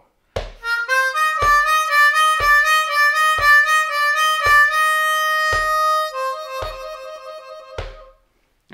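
Bb harmonica plays a rhythmic blues lick, a run of evenly spaced, clean reedy notes with sharp attacks, close and clear, ending on a held note that fades.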